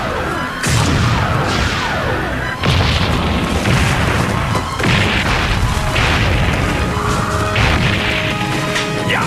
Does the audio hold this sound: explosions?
yes